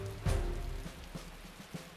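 Rain falls in the mobile RPG Assault Lily Last Bullet, a steady hiss with a heavy impact near the start and soft periodic thumps, no voices.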